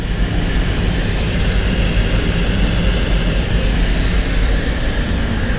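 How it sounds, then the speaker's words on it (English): DeVilbiss air blowers run with a loud, steady, broadband rushing roar, unbroken and close throughout, with no talking. "I'll move those blowers over a bit."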